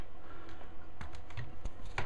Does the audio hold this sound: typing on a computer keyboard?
yes